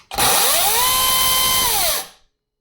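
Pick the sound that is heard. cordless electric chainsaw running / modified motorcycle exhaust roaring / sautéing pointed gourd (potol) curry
cordless electric chainsaw running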